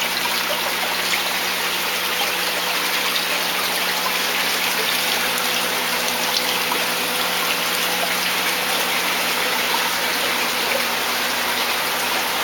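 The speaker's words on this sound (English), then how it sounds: "Size of the line determines the flow back to the tank." Water pouring steadily from a return line into a closed recirculating tilapia tank on a floating system, a constant broadband gush and trickle with no pauses, close and fairly loud.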